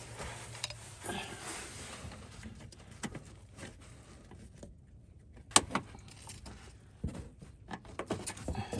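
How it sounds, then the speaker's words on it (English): Plastic tabs on the crank pulley covers of a car being repaired for a noisy belt are pried loose, giving scattered faint clicks and rattles and one sharper snap partway through, in a quiet setting. "All right, so we're gonna pop these tabs off."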